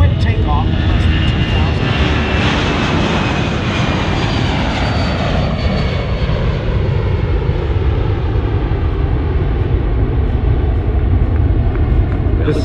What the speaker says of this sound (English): The pilot will pull back on the stick, not the yoke, and watch that quick takeoff